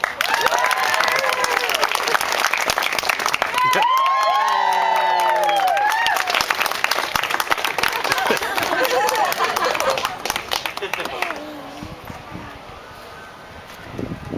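Audience at a Renaissance fair show bursts into applause, a busy crackle of clapping mixed with cheers and shouts from the crowd, tapering off toward the end while voices carry on.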